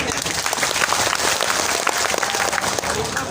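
Continuous, dense audience applause fills a hall at an Urdu poetry recital after a ghazal ends, loud and steady throughout with crowd noise mixed in.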